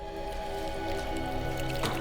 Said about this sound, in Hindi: पानी की आवाज? कमरे के अंदर पानी?